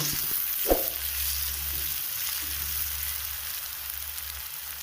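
Onions frying in a pan for cauliflower curry, giving a soft continuous sizzle with one brief knock of a utensil early on and a low steady hum beneath, fairly quiet and close.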